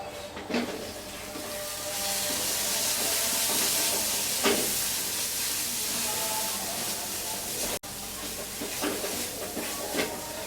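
Potatoes fry in a small amount of oil in a covered pan for Kashmiri shahi aloo dum, giving a steady steamy hiss with occasional clicks and soft clatter from the pan.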